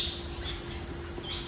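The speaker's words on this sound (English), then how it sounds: "So nice, you can hear the birds." Birds chirping outside a house on the Sunshine Coast, faint high twittering calls over a soft steady background hum, brief and distant with no voices.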